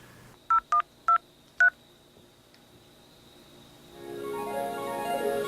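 Four short telephone keypad dialing tones beeping in quick succession, loud and clean, followed by a soft rising line hiss or noise, as a caller dials a fantasy football phone advice service.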